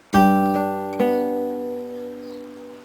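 An acoustic guitar chord rings out, then is struck again a second later and left to sustain and slowly fade.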